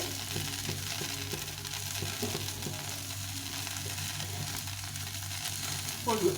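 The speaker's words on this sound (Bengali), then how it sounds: "করলাটা ভাজা ভাজা ভাজা হয়ে গেছে" Bitter gourd frying in hot oil for a fish curry gives a steady, close hiss that holds loud and even throughout, with a brief clatter near the end.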